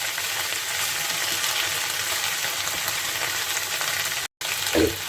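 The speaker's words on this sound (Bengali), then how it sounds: "পটলের সঙ্গে কয়টা আমি আলুও ভেজে নিচ্ছি" Potatoes and pointed gourd fry in oil in a pan, a loud, dense, continuous sizzle heard up close, cut by a brief gap and followed by a light stirring clatter.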